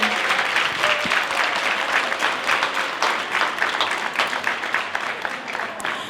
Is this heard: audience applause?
yes